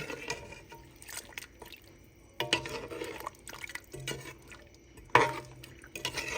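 Kare-kare sauce stirred in a pot, soft liquid sloshing and spoon scrapes coming in uneven bursts with quiet gaps between, close and fairly faint.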